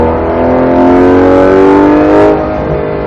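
A Porsche GT3 RS accelerating hard on a race track, its engine loud and close with a steady, rising roar that holds for about three seconds and then eases slightly, with no talking over it.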